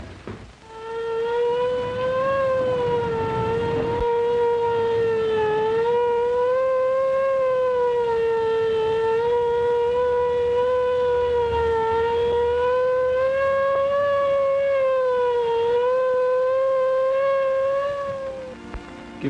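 A loud, wailing ambulance siren in an old Hollywood film rises and falls slowly in long sweeps, sounding alone and steady for nearly twenty seconds.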